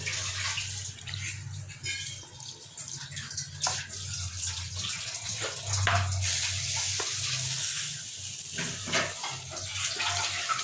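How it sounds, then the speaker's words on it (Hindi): Water is poured into a cooking pan for semolina halwa, a steady splashing, running stream that carries on for about ten seconds, close and fairly loud, with no talking. "एक कप के करीब ही आपने पानी शामिल करना है इसमें।"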